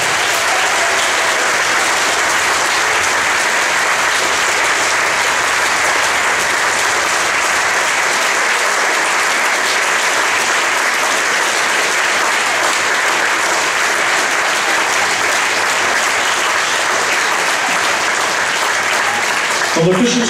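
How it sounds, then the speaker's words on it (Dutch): A concert audience gives sustained, dense applause for conductor Nicky van den Herwegen at a harmony wind band concert in Moerbeke, a loud, even wash of many hands clapping throughout. "Een heel hartelijk applaus voor onze dirigent Nicky van den Herwegen"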